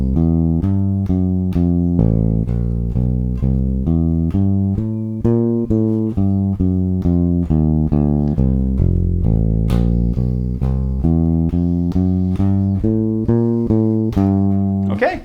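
A walking bass line over the first eight bars of a simple jazz blues, steady plucked quarter notes stepping evenly through the changes, loud and close with no one talking.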